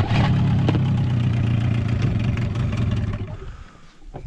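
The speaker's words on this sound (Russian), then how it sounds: "Моторчик, естественно, на мелководный режим стоит." A small boat outboard motor on a narrow river runs in shallow-water mode, a close, loud engine drone that slowly eases down toward idle.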